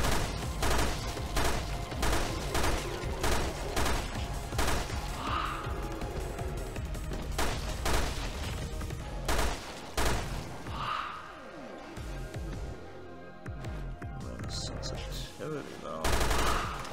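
Rapid gunfire from Resident Evil 2 Remake with a raid mod, dense bursts of shots and crashes running nearly throughout, loud and close, thinning briefly near the end.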